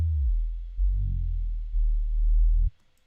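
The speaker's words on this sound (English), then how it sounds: "Sub sounds like this." Synthesized sub bass tone made in Ableton, a deep low sustained hum alone, pulsing in a few swells before cutting off abruptly near the end.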